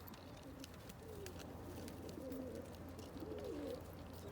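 A sarı kırçıl variety pigeon coos softly and close by in a few low, rolling phrases over a quiet background hum, with faint ticks and knocks scattered through.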